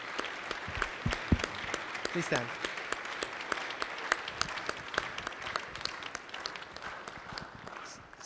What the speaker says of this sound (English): please warm welcome of applause for the members in the audience